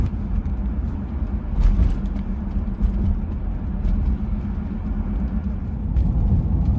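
Old tyres on a Bentley roll over a normal tarmac road at 60 to 70 kph, giving a steady, loud, low rumbling road roar inside the car with faint light clinks above it.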